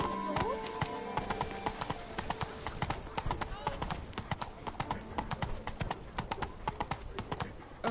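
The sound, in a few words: horse Roach hooves trotting, video game Witcher 3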